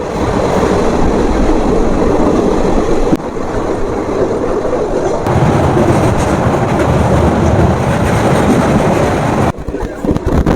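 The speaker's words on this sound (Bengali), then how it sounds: "আমাদের ট্রেন ধীরে ধীরে ঢুকছে রামপুরহাট জংশন রেল স্টেশনের দিকে" The 13028 Howrah Kaviguru Express rolling on rails toward Rampurhat Junction, a loud, continuous rumbling roar with rushing wind and faint rhythmic clatter, briefly dipping at a few points.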